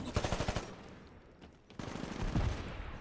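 Rapid automatic gunfire in Titanfall comes in two close, dense bursts separated by a brief lull, loud and rattling.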